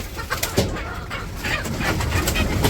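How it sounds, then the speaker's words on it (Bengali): Chickens cluck at feeding time on a village poultry farm, with a steady mix of fowl calls close by and no talk. "মুরগির এই যে খাবার দিতে এসে বসছি"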